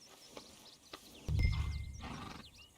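A horse in Red Dead Redemption 2 gives a loud snorting whinny with a heavy low rumble, preceded by a few scattered hoof knocks and faint bird calls in an outdoor setting.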